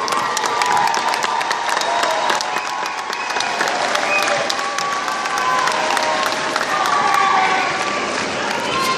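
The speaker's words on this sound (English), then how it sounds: "Clap it up for them." A graduation commencement crowd at Cal State East Bay claps and cheers loudly and continuously, with shouts and whoops mixed into steady, dense applause.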